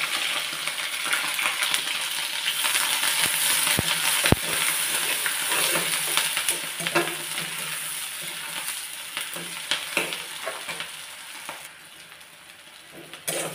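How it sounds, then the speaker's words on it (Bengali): Chopped onion and green chili fry in hot oil in a pan, a continuous bright sizzle and crackle with a couple of sharp utensil clinks, heard close and without talk. "পেঁয়াজ আর কাঁচামরিচটা দিয়ে দিলাম।"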